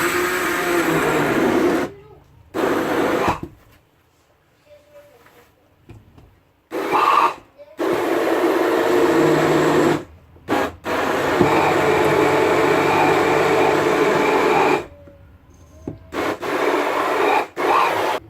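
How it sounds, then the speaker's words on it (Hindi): Electric blender runs in loud bursts, chopping orange pieces in a jug for homemade orange squash, with its grinding whir stopping and restarting several times between short pauses. "अब मैं इस मशीन की मदद से इसको ब्लेंड कर लूँगी।"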